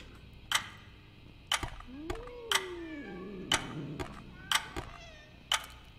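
An angry cat in the video game Sense gives a drawn-out low meow, faint, amid a regular ticking of sharp clicks about once per second.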